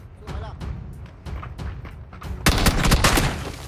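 Rapid bursts of gunfire from the battle royale game PUBG erupt in the second half, dense and loud, with voices talking over the firing throughout.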